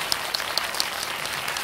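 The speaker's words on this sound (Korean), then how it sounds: "다 같이 박수 한번 보내주시기 바랍니다." A cinema audience at a film talk event at Megabox Seongsu claps together in a thick, close wash of applause, with a few sharper claps standing out at a steady pace.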